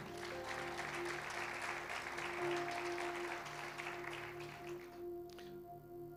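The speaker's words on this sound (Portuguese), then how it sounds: "Dê um aplauso bem forte ao Senhor." Dense clapping from a crowd, steady and sustained, with a held musical tone underneath before the applause thins out near the end.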